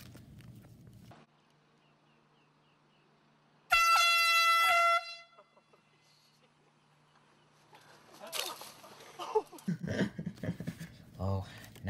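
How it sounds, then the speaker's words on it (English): A single loud, blaring air horn blast sounds for about a second amid quiet, followed later by shuffling footsteps and light knocking. "Hey, you have to stop using those air horns."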